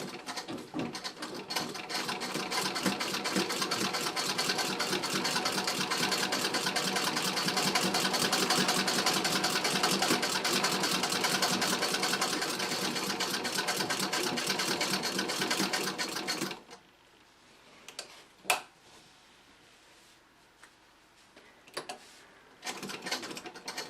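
A 1912 Singer 27 treadle sewing machine fitted with a walking foot stitches through batting in a fast, steady rapid clatter for about sixteen seconds, then stops, leaving scattered faint clicks and knocks.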